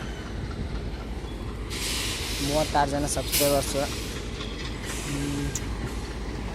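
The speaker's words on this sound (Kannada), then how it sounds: "ಇನ್ನೇನು ಟ್ರೈನ್ ಹೋಯ್ತು" A train rolls past nearby with a loud rushing hiss and clattering rhythm that swells in the middle, while someone talks over it.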